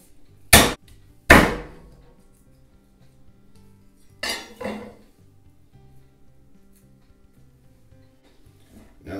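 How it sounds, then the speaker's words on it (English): Garlic cloves and other salsa verde ingredients dropped into a Ninja Foodi blender jar: two sharp, loud clunks close together, then a pair of lighter rattling knocks, separated by near-silence. "Drop everything into the blender."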